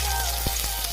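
Chopped onion frying in a pan while making chicken, a steady close sizzle with a soft stirring scrape partway through, no talking.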